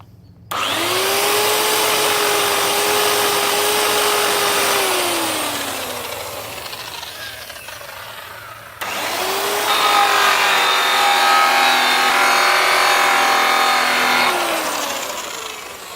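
A buffing wheel spins up with cutting compound to polish aluminum, letting out a loud high whine that sags as the part is pressed against it, stops, then starts again for a second steady run.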